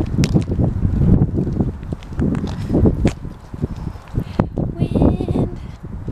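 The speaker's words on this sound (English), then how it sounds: "It's windy." On a mild spring day outdoors at a birthday party, gusty wind buffets the microphone with low rumbling thumps in uneven bursts while people talk nearby.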